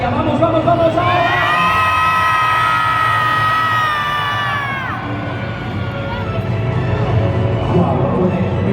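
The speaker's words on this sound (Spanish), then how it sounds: "Un grito fuerte para dar energía." A big indoor arena crowd at a Megasaurus monster truck show in Barcelona's Palau Sant Jordi lets out a long, loud sustained shout and cheer with children's high voices, which fades into a continuous crowd roar.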